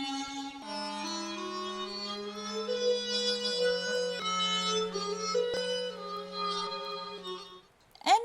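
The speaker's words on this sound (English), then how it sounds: "Here is the sound of aulos." A sustained ancient Greek aulos woodwind plays a slow reedy melody over a steady low drone, alone and fairly loud, ending with a brief rising flourish.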